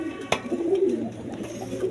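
A pair of Dennis pigeons coos on a farm, soft repeated low cooing close by, with a sharp click early on and no talk.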